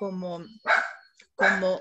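A small pet dog barking indoors, two sharp close barks following a whiny vocal sound, loud and distinct.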